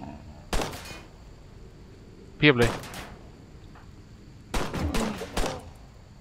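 Gunfire aimed at zombies in a RimWorld zombie-mod game: brief bursts of shots in several clusters separated by quieter stretches, with a voice speaking briefly in between.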